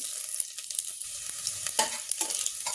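Cumin and garlic sizzle in hot oil for potato chutney, a steady bright crackle with occasional stirring scrapes, close and continuous with no talking.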